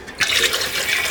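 Water pours steadily into a cooking pot for haleem (daleem), roughly three litres going in, a continuous splashing rush that holds loud and even throughout with no voices.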